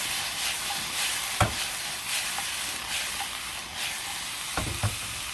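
Thinly shaved beef and chicken sizzle in a hot pan on an outdoor patio, a steady hiss broken by a few sharp clanks of a stirring utensil.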